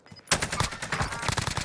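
A Cold War AK47 SMG in Call of Duty Warzone on Rebirth Island fires a rapid, sustained burst after a brief quiet, loud and close, with rounds cracking in quick even rhythm.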